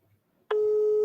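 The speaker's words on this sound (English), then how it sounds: "This person's phone is ringing." A telephone ringback tone on a live call-in broadcast to a prize winner: silence at first, then a single steady tone starts abruptly halfway through and holds clear and loud to the end.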